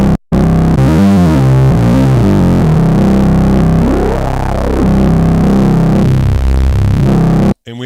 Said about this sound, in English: As we increase signal level, we'll start getting distortion because we're now feeding back on ourselves.